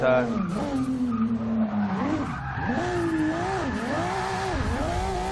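Volvo S60 Polestar in a racing video game sliding with prolonged tire squeal, engine revving under the skid, loud and continuous for several seconds, with rising and falling pitch as the car slides.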